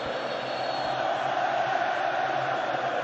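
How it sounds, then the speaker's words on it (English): A dense football stadium crowd at a Jordan vs Oman AFC Asian Cup qualifier roars and cheers in a steady, unbroken wall of noise that stays loud for the whole stretch. "This crowd going crazy at the moment."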